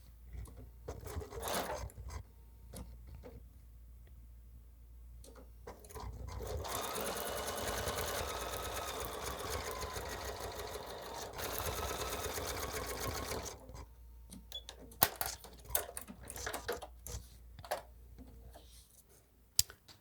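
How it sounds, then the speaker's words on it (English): A sewing machine stitches a quilt block seam in a steady run of about seven seconds, framed by quieter handling clicks and fabric rustles before and after. "let's go sew this at the machine"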